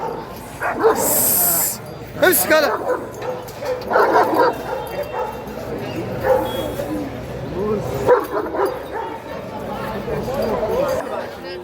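A seven-month-old guard dog barks, yips and whimpers fiercely in repeated close bursts while its handler speaks and urges it on over the noise.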